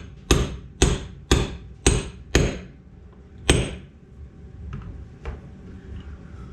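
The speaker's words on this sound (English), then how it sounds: "Gently tap your seal in until it bottoms out." A hammer taps a spring-side-down seal into the housing of a B2 floor edger during a rebuild, six sharp metallic knocks in an even rhythm followed by a quieter pause, close and clear with no talk.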